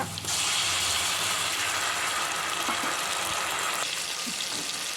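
Onions sizzling in hot oil in a pot for vegetable biryani, a steady loud hiss and crackle of frying that carries on continuously.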